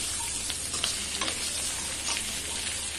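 Raw banana slices sizzle steadily in hot oil in a pan for a Bengali home-cooked dish, a dense continuous crackle with faint stirring ticks close by and no voices.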